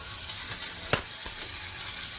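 Chopped onion and onion greens sizzle in hot oil with cumin in a very hot kadhai, a soft continuous frying hiss with a few brief sharp crackles and stirring knocks.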